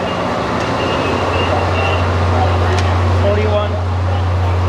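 An Amtrak train idles in a station with a loud, steady low engine hum and a constant background drone, while people talk nearby.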